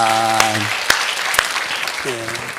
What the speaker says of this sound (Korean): 한번 우리 손 드신 분들 박수 한번 부탁드리겠습니다